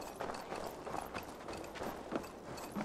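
Horse hooves clip-clop in steady, rhythmic steps in Assassin's Creed Valhalla, a continuous close patter of muffled strikes with no talk.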